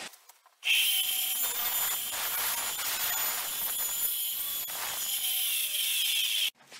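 A power saw bites into wooden boards for pipe shelves, starting abruptly with a loud, steady whining grind that holds for about six seconds before cutting off, close to the listener.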